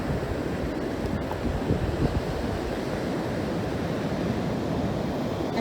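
Ocean waves wash up on a rocky shell beach as a continuous heavy rush of surf, thick with wind buffeting the microphone, with no single wave standing out.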